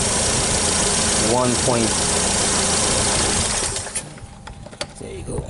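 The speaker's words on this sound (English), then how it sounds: "Right now the vehicle is idling" A 2012 Nissan Versa with fault codes P0223, P1121 and P0123 idles as a steady engine hum, loud at first and fading near the end, with a voice speaking briefly over it.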